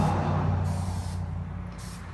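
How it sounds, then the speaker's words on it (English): Upholstery adhesive hisses in one steady, close spray onto the rear wooden convertible top bow of a 1971 VW Super Beetle, fading slightly toward the end. "Next, we need to spray this back wood bow."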